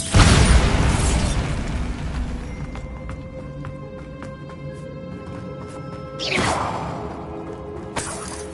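Bombarda blasting spell in Hogwarts Legacy catacombs, a loud explosive burst that fades into a long rumbling decay, followed by a second whooshing crash a few seconds later and a small clatter near the end.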